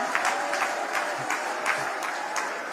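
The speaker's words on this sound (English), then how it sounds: "Give yourselves a round of applause" A crowd at a gathering with King Misuzulu in Eswatini applauds, the clapping near and fairly even, with a few sharper claps standing out in a short, continuous burst.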